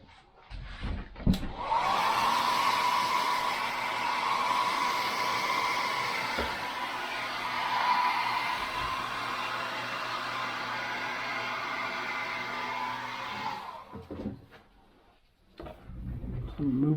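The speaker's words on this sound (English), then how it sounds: "we're going to hit him with a hairdryer" A hairdryer blows on acrylic paint on a wood carving of a caricature cowboy bust, a loud steady whirring roar that runs for about twelve seconds after a brief clatter and then cuts off.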